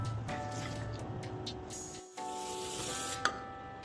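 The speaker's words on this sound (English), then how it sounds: "If it moves, spray it. If it doesn't move, spray it twice" WD-40 is sprayed onto a heavily rusted 1993 Girsan Yavuz 16 pistol as a steady close-up hiss, broken by a short pause and then resumed, with a small clack near the end.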